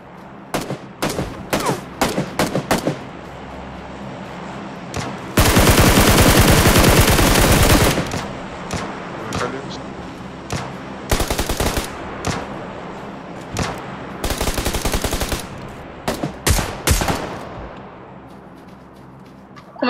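PUBG Lite gameplay brings bursts of gunfire: scattered single shots and quick volleys, plus several long sustained automatic streams. The shooting is loud and sharp throughout, with no clear voices.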